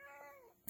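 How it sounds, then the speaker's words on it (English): Ollie, a house cat, lets out one soft, drawn-out meow that slides downward in pitch, quiet and alone with no talking. "My cat is here again."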